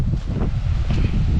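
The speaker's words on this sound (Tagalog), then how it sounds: "lakas ng hangin." Steady, strong wind buffeting the microphone with a constant low rumble and roar, loud throughout.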